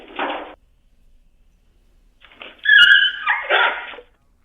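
A dog sleeping outside a house yelps and whimpers while being seized by a leopard, with a short cry, a pause, then a louder strained burst of yelping close by.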